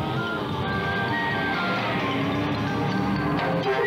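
A 1965 Dodge four-wheel-drive truck grinds through a mud hole, its engine a steady low rumble under continuous churning and splashing noise, with a thin whine riding above it and no clear gaps.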